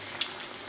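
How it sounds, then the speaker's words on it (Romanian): Breaded zucchini cutlets fry in a pan with a soft, steady sizzle and light crackling pops. The sound is quiet and continuous. "Vom începe să prăjim San Jacobo de"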